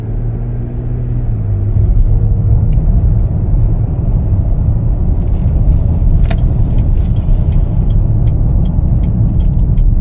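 A 2023 Chevy Traverse RS drives along on a test drive with a low steady engine rumble and road noise, occasional faint clicks and rattles inside the cabin, no talking.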